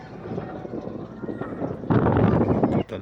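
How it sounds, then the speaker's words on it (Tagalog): Wind buffets a microphone outdoors during kite flying, a low, steady rumble that swells into a stronger gust for the last second. "mahina talaga ang hangin"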